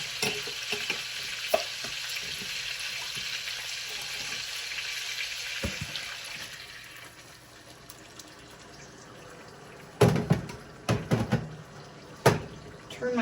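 Meat browning in a frying pan for a home comfort-food recipe, a steady hissing sizzle that fades lower, then a few loud scrapes and clanks of stirring and turning near the end.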